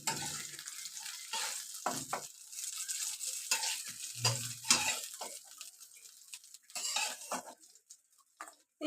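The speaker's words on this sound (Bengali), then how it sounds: "সবগুলো মাছ আমি এভাবে লাল লাল করে ভেজে নিব" Pieces of fish fry in hot oil in a home kitchen until reddish-brown, with a steady close sizzle and occasional utensil scrapes and stirring clatter.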